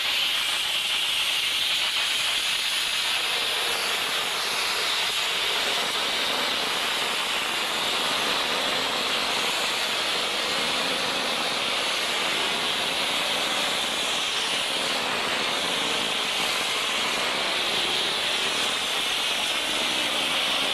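ToughTek S340e pump spraying a finish coat onto a wall: a steady, loud, broadband hiss of spray that runs unbroken throughout, close and with no voices.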